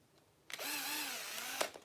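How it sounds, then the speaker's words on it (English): A power drill drives long screws into an Axial Capra RC crawler during a kit build: one close, loud burst of about a second with a whirring motor that rises and falls in pitch, then stops abruptly. "That's where you're gonna want the drill."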